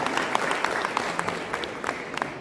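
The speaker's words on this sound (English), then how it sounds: "A big round of applause for Sir, Mr. Shaman Jha." Audience at an education symposium giving a round of applause, dense steady clapping for a couple of seconds at close range.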